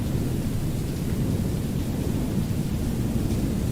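Steady rain with a low, rolling thunder rumble fills the Wickie video game with its rain debug mode on, a dense and continuous wash of noise with no voices.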